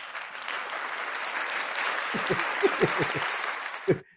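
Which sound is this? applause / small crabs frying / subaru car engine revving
applause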